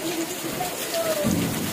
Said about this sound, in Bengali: মুসুল ধারা বৃষ্টি হচ্ছে, দেখো শুধু।